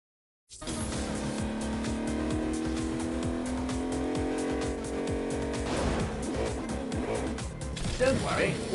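A car in the Agents of Mayhem video game drives with a steady loud engine drone and rising revs, then tire squeal and impacts, while a voice talks over it.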